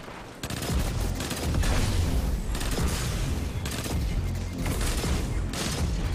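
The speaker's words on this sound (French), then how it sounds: "On va tester la nouvelle arme." A new weapon in Destiny 2 fires in loud rapid bursts, clusters of gunshots separated by brief gaps, close and dominant throughout.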